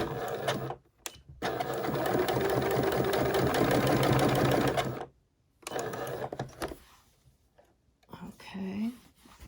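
Sewing machine backstitching, a sustained rapid mechanical hum for several seconds, then a pause and a shorter second run, with soft murmured speech near the end.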